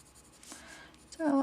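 A colored pencil scratches softly across paper while adding a layer, a brief close-up scraping stroke, with a voice starting to speak at the end.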